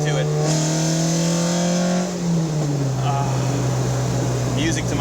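A track-ready 1976 Alfa Romeo GTAm dropping down to third gear, its steady engine drone shifting pitch partway through, heard close and continuous beneath someone talking.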